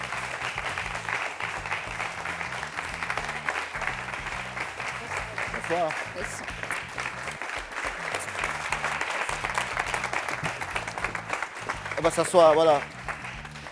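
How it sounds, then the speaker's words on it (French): A television studio audience applauds a guest on a youth talk show: steady, dense clapping fills the whole stretch, with a host's voice speaking over it and a brief swell near the end. "Merci de l'applaudir"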